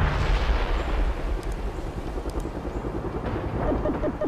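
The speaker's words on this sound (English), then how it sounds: "They're firing at us." Continuous battle din of gunfire and artillery fire in the video game World in Conflict, a dense roaring wash of rumbling booms and crackling shots with faint radio-style voices at times.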